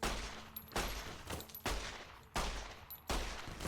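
Gunfire from Fallout New Vegas, with four loud, sharp shots spaced roughly a second apart, each a broadband blast with a short decay, and no talk in between.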